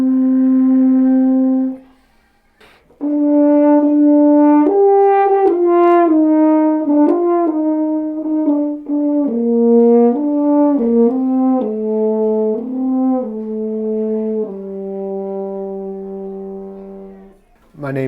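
A French horn plays a slow, legato melody up close, note following note through a phrase of about eighteen seconds. A short breath pause falls near the start, and the line ends on a long held low note.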